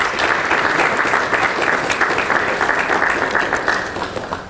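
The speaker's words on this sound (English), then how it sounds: "How about another round of applause for our students?" An audience applauding students at a junior leadership summit, a loud sustained burst of many hands clapping together evenly, easing off slightly near the end, with no speech over it.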